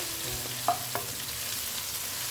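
Onions sizzle in oil with ginger garlic paste, a steady frying hiss from close by with a couple of soft clinks of stirring and no voices.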